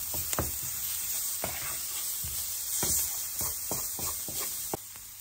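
Garlic sizzles quietly in hot oil in a pan, a soft continuous frying hiss broken by several sharp taps and scrapes of a spoon stirring; no one speaks.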